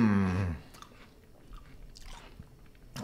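Crunchy beer-battered sage chips being chewed after a brief loud voice-like sound at the start, with a few soft crunching bites and mouth sounds close up, quiet in between.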